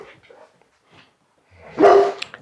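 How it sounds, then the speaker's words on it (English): A Doberman gives a loud, close woof in a public outdoor setting during leash training, preceded by faint low grumbles and soft sounds, with no talk over it. "He's barking a little, woofing a little bit at Frank."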